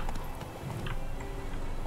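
Roach, the horse in The Witcher 3, gallops in a quick run of hoofbeats, half buried in a thick game soundscape.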